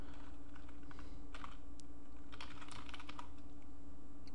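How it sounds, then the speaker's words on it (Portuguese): Typing on a computer keyboard during a software lesson, with scattered clicking keystrokes coming in short uneven bursts over a steady low hum, close and fairly quiet, with no one talking. "É só eu clicar, que ele já aparece uma área para mim começar a digitar, ok? Então, vamos digitar aqui"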